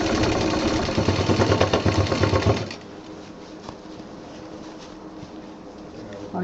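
A sewing machine stitching the loop of a handbag handle runs with a fast, steady mechanical rattle for under three seconds, then stops, leaving a quiet room.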